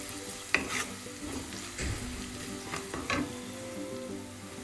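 Carrot and dried chillies stir-fried in a pan, a gentle sizzle beneath repeated scraping strokes of a spoon, several distinct stirs at an unhurried pace.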